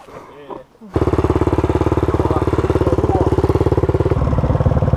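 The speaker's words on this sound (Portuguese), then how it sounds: "é motinha" A Honda CRF 250F trail bike engine idles in a rhythmic, rapid thumping putter, close and loud, starting abruptly after a brief moment of voices, with some talk and clatter over it.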